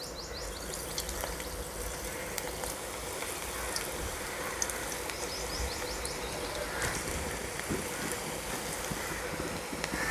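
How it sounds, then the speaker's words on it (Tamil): Pinched pieces of arai keerai pakoda batter fry in hot oil in a kadai, making a continuous, fairly soft hiss and crackle throughout, with faint talk in the background. "கடாயில் ஆயில் சேர்த்தாச்சுங்க. ஆயில் நல்லா காஞ்சிருச்சு. இப்போ நம்ம கொஞ்சம் கொஞ்சமாக கிள்ளி போட்டுடலாங்க."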